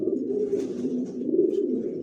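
Racing pigeons coo close by in a soft, continuous low murmur of overlapping calls, with no voices over them.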